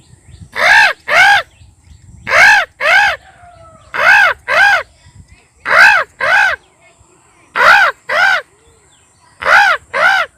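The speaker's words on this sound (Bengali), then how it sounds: "কাক যখন গাছের ডালে বসে ডাকে সেই সময় এরকম শব্দ করে" A crow perched on a tree branch caws loudly and close by in repeated pairs of harsh calls, with short pauses between each pair.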